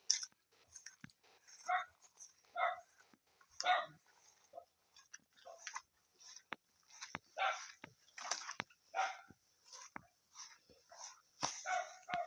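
Repeated small barks and yips from a dog, faint and scattered over a quiet background, with occasional clicks.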